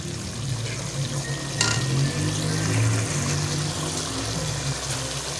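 Fresh green beans hit a pan of frying boneless chicken karahi, giving a steady oily sizzle with a brief clatter near the start and low bubbling throughout.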